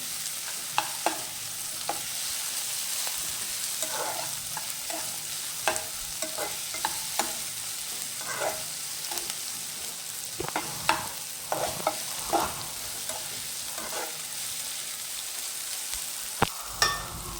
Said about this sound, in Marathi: तुम्ही त्याच्यात भाज्या, जेवढ्या भाज्या असतील तुमच्याकडे तेवढ्या भाज्या, म्हणजे गाजर टाकला तरी चालेल. छान परतून घ्यायचं.